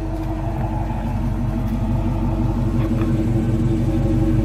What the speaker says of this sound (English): This is just how it sounds in the back exhaust.